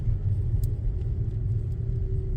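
A learner's car drives through town traffic with a steady close engine rumble and road noise, shifting into second gear and pulling out round a bus; there are faint clicks but no clear gear-change sound.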